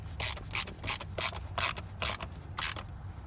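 Screws being snugged down on a 2016 Ford F-150 wiper switch, giving about eight short, crisp ratcheting bursts at a steady rhythm, close up with no talking.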